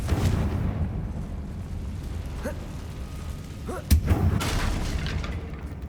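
The Confringo fire spell in Hogwarts Legacy sets off a booming blast aimed at a damaged bridge, a sharp burst followed by rumbling debris, over a low game background hum.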